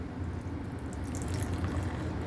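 An 8% double IPA beer pours into a glass, a steady, continuous foamy splash and fizz lasting the whole moment, close and moderately loud, with no talking.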